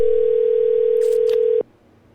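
Steady telephone dial tone held for about a second and a half, loud and clear, then cut off abruptly leaving faint line hiss.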